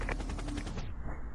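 Loud, rapid gunfire from the mobile shooting game Overkill 3 rattles off in an even run of closely spaced shots, then cuts out abruptly.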